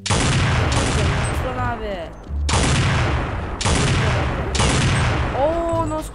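AWP sniper rifle shots sound in the game Counter-Strike 1.6. Four loud, booming reports are spaced about a second apart, each followed by a short metallic bolt-cycling ring, and a voice speaks briefly between them.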